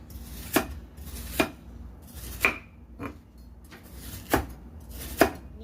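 A knife slices bitter gourd on a cutting board, six crisp distinct chops spaced roughly a second apart, close and clear over a quiet background.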